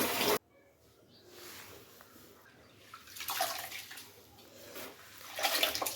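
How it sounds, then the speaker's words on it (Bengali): Cold water splashes and swirls as soaked rice is washed by hand in a container, uneven sloshing bursts that grow louder toward the end, with no voices. "আমি এই ঠান্ডা পানি দিয়ে চালগুলো পরিষ্কার করে"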